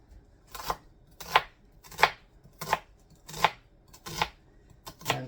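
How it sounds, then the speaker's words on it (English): A knife chopping an onion on a board in a home kitchen, seven or eight crisp, evenly spaced cuts, close and fairly quiet, with no voices. "I'm chopping us each up an onion."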